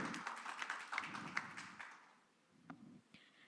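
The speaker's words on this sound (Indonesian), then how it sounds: "Kita berikan tepuk tangan kepada paslon nomor urut 1." An audience at a Manado mayoral candidates' debate applauds the first candidate pair, giving a brief, fairly faint round of clapping that fades out, followed by a couple of isolated taps.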